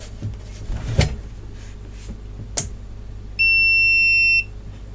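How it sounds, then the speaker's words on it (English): A KUAIQU 30V 10A bench power supply gives a single sustained electronic beep, steady and clear, for about a second after a couple of faint clicks and handling noises. "beep. It did beep."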